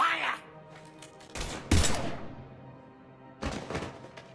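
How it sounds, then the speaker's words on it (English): Gunfire in the video game Mass Effect comes as loud bursts of shots and heavy impacts with quieter gaps between them, and voices are heard partway through. "Now open fire!"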